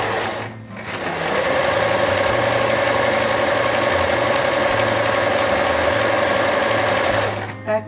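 A sewing machine stitches a buttonhole in reverse, its steady high whir running continuously for about seven seconds before stopping, close and loud.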